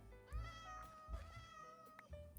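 A cat meows repeatedly in Minecraft near a creeper, several drawn-out tonal calls in quick succession, close and fairly clear over low background rumble.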